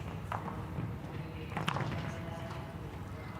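A show jumper's horse canters on outdoor arena footing at a 1.45 m show-jumping competition, its dull hoofbeats thudding steadily under continuous crowd and arena ambience, with a couple of brief louder thumps.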